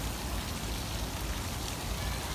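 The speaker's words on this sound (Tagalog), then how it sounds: "Maulan talaga." Rain falls in Mei Foo park as a steady, dense hiss of drops that carries through the whole stretch at an even level, with no voices.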